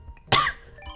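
A single sharp, close cough bursts out and fades quickly, followed by quiet background sound.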